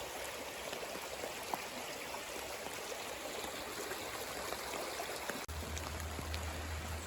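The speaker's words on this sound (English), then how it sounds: "Creek's getting a little bit wider and a little bit more full as we work our way downstream." A widening, fuller creek flows steadily downstream through woodland, a continuous close wash of trickling and gurgling water with a brief dip near the end, with no talking.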